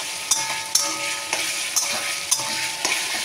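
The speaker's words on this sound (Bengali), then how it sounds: "এই দেখো আমার পেঁয়াজ টমেটোটা সুন্দর ভাজা হচ্ছে" Onions and tomatoes fry in a pan with a steady, close sizzle, punctuated by several sharp scraping stirs at roughly half-second intervals; no voices.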